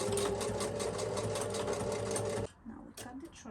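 A sewing machine stitches lace fabric in a steady, loud mechanical whir for a couple of seconds, then stops abruptly, leaving a few faint clicks and handling noises.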